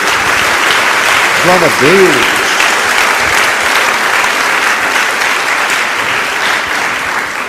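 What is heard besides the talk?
applause for Jesus in a church service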